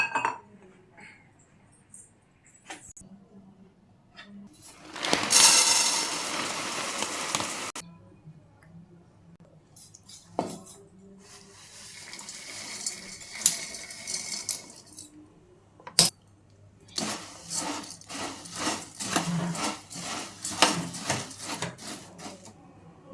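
Bhel ingredients of puffed rice, farsan and roasted papad tossed together in a bowl, with intermittent bursts of rustling, scraping and clinking from a spoon against the dish, broken by quieter pauses and a few sharp knocks.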